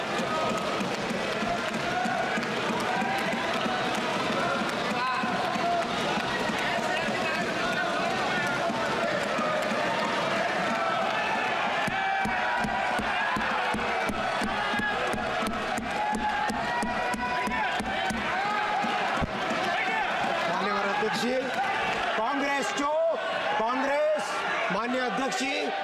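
Members of the Lok Sabha clap for railway employees, a sustained mass of clapping and crowd noise filling the chamber for the whole stretch, with voices calling out and a speaker talking over it.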